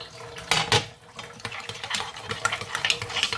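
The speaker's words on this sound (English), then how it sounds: "Just add some boiling water, not too much, about that much, you see?" Boiling water poured into a lasagne sauce in a pan, with splashing, clinks of utensils and stirring sounds, close and fairly loud, a sharp clatter near the start followed by uneven bursts of liquid and metal noise.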